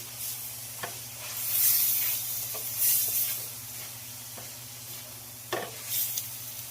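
Shrimp for scampi sizzle steadily in a hot pan, a continuous bright hiss with a few soft clicks and stirring scrapes, close and moderately loud, with no talking.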